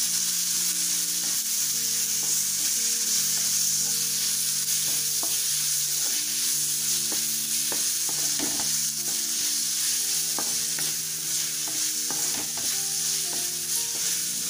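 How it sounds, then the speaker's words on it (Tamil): Chopped tomatoes sautéing in a hot pan until they break down to a mash: a loud, continuous close sizzle and hiss with occasional soft stirring clicks, and faint background music beneath. "தக்காளி நல்லா மேஷ் ஆகிற வரைக்கும் வதக்கிக்கலாம்"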